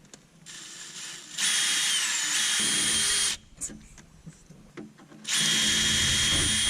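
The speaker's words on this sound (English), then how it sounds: "that's where you're gonna drill your 5/8 hole" A power drill whines loudly in two sustained bursts, boring a 5/8-inch hole in a car firewall, with a short stretch of quieter clicks and handling noise between them.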